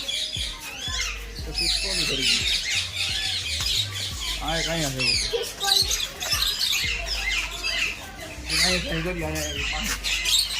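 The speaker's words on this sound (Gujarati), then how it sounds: "જો અહીંયા પોપટ બોલે છે" A parrot at the Vadodara zoo squawks loudly and repeatedly in harsh, rapid bursts while people talk nearby.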